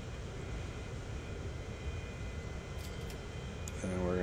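A steady low engine drone from an airplane taxiing in the Transport Fever video game, continuous and moderately loud with a brief rising tone near the end.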